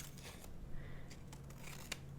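Scissors cutting a little extra paper for a handmade vintage Christmas card, soft close snipping and paper rustle, faint, with a brief crisp snip near the end.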